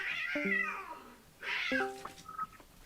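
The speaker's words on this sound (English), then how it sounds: "whoever has the cat fight in the background" Two cats fight in the background of a gaming session, trading sharp yowls and drawn-out caterwauling meows in two bursts, fairly close and loud, with no talk over them.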